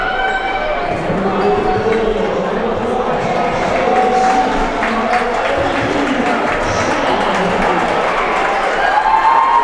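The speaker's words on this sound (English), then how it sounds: "Quadier Bennett has left the game to the sounds of applause from his fans" Fans in a high school boys' basketball gym applaud as a player leaves the game, with steady clapping and crowd noise under shoe squeaks and faint talk.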